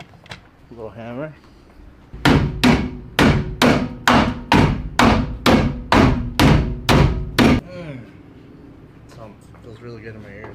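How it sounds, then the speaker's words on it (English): A quick run of about twelve loud, sharp strikes of a small hammer on metal while restoring a 2004 scrapped pickup truck, close and evenly paced, with faint talking before and after. "Little hammer."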